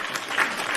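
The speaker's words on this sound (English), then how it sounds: "Everyone, round of applause for Hairline the Heater." Audience applause greets the co-host at a live wrestling talk show, a steady wash of clapping hands from a crowd with no one speaking over it.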